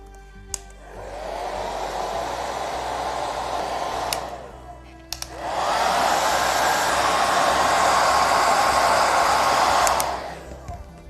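A heat tool blows hot air onto a candle to transfer a printed paper napkin image, a steady whirring roar in two bursts of about four and five seconds, separated by a short pause.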